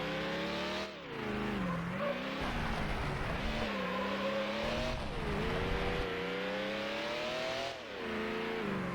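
A pony car's engine races hard during a championship lap in Need for Speed: Hot Pursuit 2 on Xbox, holding a loud, continuous roar with repeated rises and dips in pitch as it shifts and accelerates.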